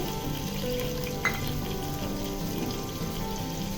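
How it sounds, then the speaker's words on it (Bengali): Garlic paste fries with chopped onion and tomatoes in a pan, a steady low crackling sizzle with a faint tap near the start, close and even throughout, no voices. "তো এই পর্যায়ে আমি 1 টেবিল চামচ রসুন বাটা দিয়ে দিচ্ছি"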